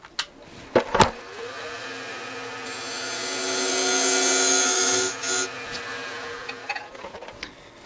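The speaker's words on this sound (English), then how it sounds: "I primarily use this skew just for this to make this dovetail for my tenons" A skew chisel shaves wood as it cuts a dovetail tenon on a spinning wood lathe for a hollowform, a rising, steady hissing cut lasting a few seconds amid the lathe's hum, with a couple of knocks before it.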